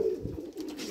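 Pigeons cooing close by in a Romanian backyard loft, a short low throaty coo standing alone.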